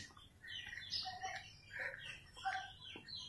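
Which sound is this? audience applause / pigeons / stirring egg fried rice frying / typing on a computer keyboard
pigeons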